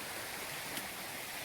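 A stream flows beside a footpath near Shirataki waterfall in the Mount Tsukuba foothills, a steady, close rush of water that fills the whole clip without any voices.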